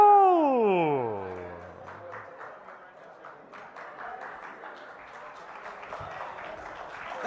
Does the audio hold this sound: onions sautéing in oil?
no